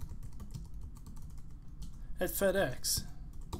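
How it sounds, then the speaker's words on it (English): Quick soft taps on an iPhone's on-screen keyboard tick along steadily under a narrator's voice, with a brief burst of brighter tones partway through. "When typing information on the keyboard"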